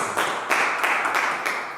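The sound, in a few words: congregation applauding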